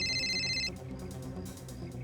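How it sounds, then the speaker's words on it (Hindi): A mobile phone ringtone plays a bright repeating electronic tone that stops abruptly, followed by quieter background sounds. "क्यों फोन कर रहा है मुझे?"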